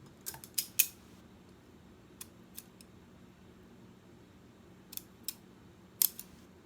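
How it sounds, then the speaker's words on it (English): Small scissors snip the extra string off a craft bow for a Halloween skull wand, a few crisp, close cuts in short clusters separated by quiet pauses. "then just cut out the extra little string"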